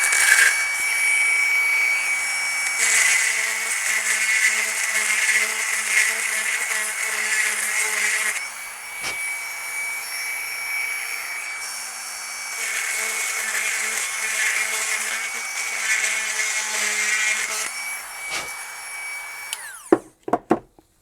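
A Proxxon rotary tool drills a hole during a Gilera Nordwest motorcycle valve and head job, whining steadily and loud for most of the run, with a short dip partway through and a few sharp knocks as it stops.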